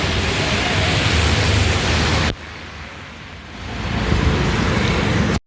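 Strong typhoon wind with light rain during Typhoon Kristine roars as loud, broad rushing noise against the microphone, cuts to a quieter hiss midway, then builds back up.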